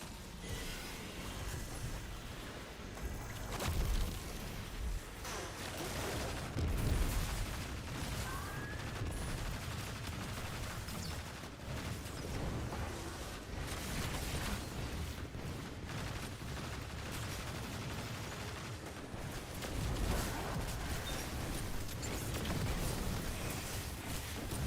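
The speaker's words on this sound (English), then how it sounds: "just as I run to get it, I get a barrage of bombs" Barrage of bombs and gunfire in the video game Destiny during a Grandmaster Nightfall, dense continuous booms and rattling shots layered with bursts over nearly half a minute, fairly faint overall.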